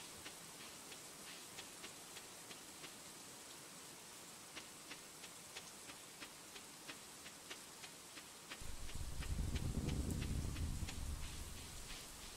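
Steady rain hiss from the video game Stardew Valley, fairly quiet and continuous, with evenly spaced light ticks running through it and a louder low rumbling swell entering near the end; no one speaks.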